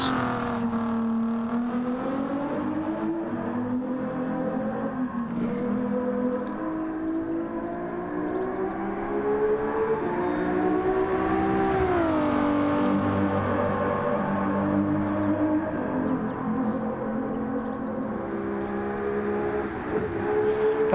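A Nissan GT-R race car engine in Gran Turismo 7 drones continuously, its pitch rising and falling through gear changes and revs, with a sharp climb and drop near the middle as the car accelerates and backs off.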